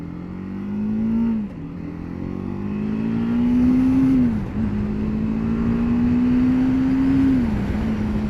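A BMW 310GS motorcycle revs up loudly and close, its engine note climbing steadily, dipping briefly at each of two gear changes, then rising again with no talk over it.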